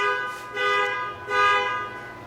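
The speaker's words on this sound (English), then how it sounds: "It just feels just like on the road when you get honked at, even in here." A car horn honking twice in quick succession, two loud sustained blares heard from inside an indoor garage, close and clear with no talk.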